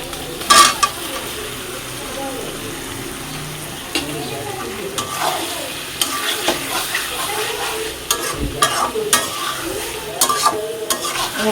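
Fried egg and potato pieces stirred into a spiced egg curry base in oil, a steady sizzle broken by repeated scraping and clinking spatula strokes against the pan, close and moderately loud.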